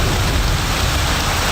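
Heavy rain pouring down in Hyderabad, a dense, loud and continuous hiss of downpour with no breaks.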